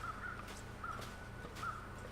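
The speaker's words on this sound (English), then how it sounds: "I'm seeing crows." Crows caw in the snowy wilderness of the video game The Long Dark, three short harsh calls spaced evenly and heard faintly at a distance over a low ambient wind.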